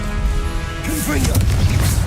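Confringo, the explosive spell in Hogwarts Legacy, bursts with a loud crash and thwacking impact after a quieter opening, followed by scattered crackling debris over a low game rumble, with some voice in the mix.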